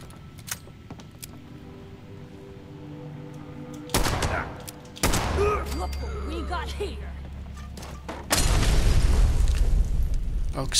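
Bursts of gunfire from enemies in the Fallout 76 video game, sharp repeated shots and booms in clusters, loudest in the final seconds, with a player talking in between.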